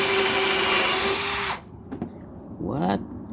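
A power drill runs loud and steady for about a second and a half while boring into aluminum on a car's cooling fan relay job, then cuts off abruptly, leaving quiet with brief handling clatter and a short murmur.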